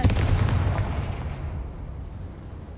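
The Confringo fire spell in Hogwarts Legacy detonates with a loud, booming explosion that rumbles and fades out over about two seconds.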